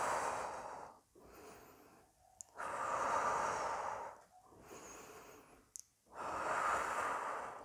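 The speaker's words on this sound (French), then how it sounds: "la respiration abdominale avec le ventre" Slow abdominal breathing, close and audible: long rushing exhalations alternate with softer inhalations in a steady rhythm, with brief pauses between them.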